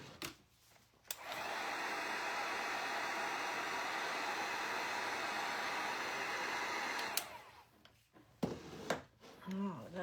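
Hair dryer blowing on a patriotic star craft piece, a steady loud whoosh running for about six seconds before switching off, with brief clicks and handling noises around it and someone talking afterward.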